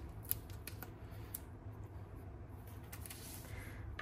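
Scissors cutting foam adhesive strips: a few quiet, close snips spread across a few seconds against a hushed room background.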